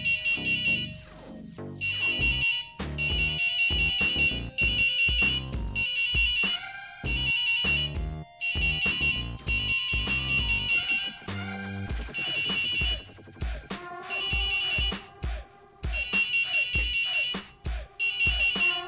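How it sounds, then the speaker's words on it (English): Loud electronic buzzer alarm from an Arduino motion-sensing security system sounding in repeated bursts, shrill beeping pulses that stop and restart irregularly, alongside clicks and low thumps between them. "the buzzer is going to go off and the light will flash like this"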